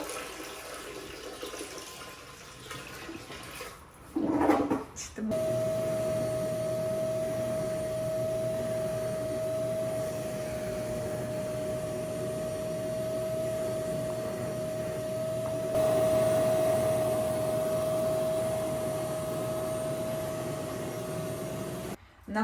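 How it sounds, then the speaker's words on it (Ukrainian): Vacuum cleaner sucking up dirty water in a flooded basement, a brief splash and rattle followed by a loud, steady whine and hiss that continues unbroken, rising slightly midway, with no voices. "Ми вже четвертий раз це все пилососимо і зливаємо воду."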